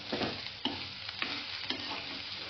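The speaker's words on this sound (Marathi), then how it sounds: "आता आपण याच्यामध्ये लाल मिरच्या तळून टाकायच्या." Red chillies fry in hot oil for an aloo baingan bhaji, a dense continuous sizzle close up with periodic scraping stirs of the spoon punctuating it, no talking.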